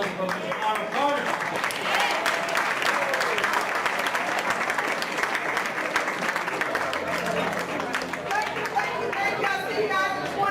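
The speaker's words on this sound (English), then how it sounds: "Let's give one round of applause for our partner" Audience applause at a women in hospitality and tourism luncheon, sustained clapping across a large room mixed with crowd chatter and voices throughout.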